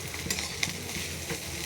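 Food fries quietly in a pan with a soft, steady sizzle, broken by a few light stirring scrapes and clinks, with no voices.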